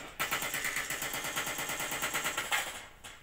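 Automatic gunfire in the VRChat video game: a rapid, steady stream of evenly spaced shots lasting about three seconds, loud and continuous with no talking.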